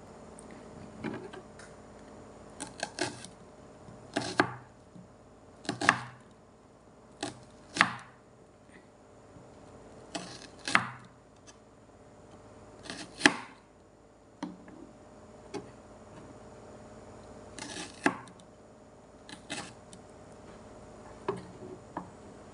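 Irregular bursts of a knife striking a cutting board while onions and carrots are diced, sharp clustered taps separated by pauses, close and fairly quiet with no talk.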